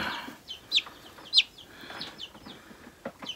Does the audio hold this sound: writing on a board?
no